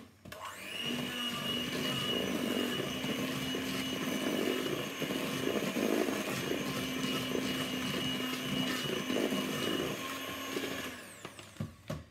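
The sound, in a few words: whisking egg and flour into batter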